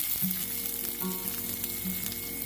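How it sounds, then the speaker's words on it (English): Potato pieces and onions fry in a hot pan with a steady, close sizzle, broken by a few brief stirring scrapes and clinks. "now I'm going to cook this potato, both sides, with onions"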